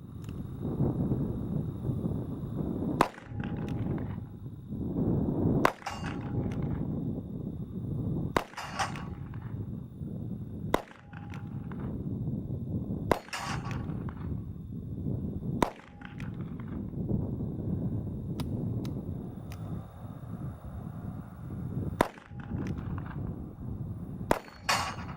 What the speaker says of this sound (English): let's just shoot a few steel targets and then have a few final words.